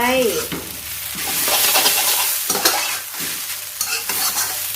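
Rice vermicelli noodles stir-fried in a hot wok, with steady sizzling and repeated scraping strokes of a spatula, loud and close.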